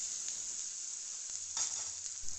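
Tomato sautéing in tempering oil for a Gujarati potato curry, a soft continuous sizzle with a couple of brief stirring scrapes, close but fairly quiet; no talking.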